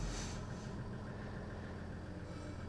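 Toyota Land Cruiser 250 engine running on dyno rollers in high range, a steady continuous hum with low rumble, fairly quiet and unbroken throughout, no voices.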